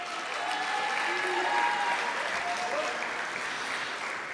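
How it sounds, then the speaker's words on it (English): An audience at a college athletics year-in-review event gives a steady round of clapping, evenly sustained and moderately loud, with faint whistles or voices woven through it. "Please give him a round of applause"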